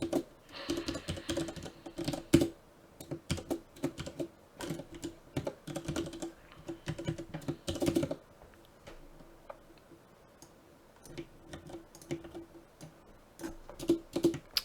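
Java code is typed on a computer keyboard in quick, uneven bursts of sharp key clicks separated by short pauses, close and fairly quiet, with no voice.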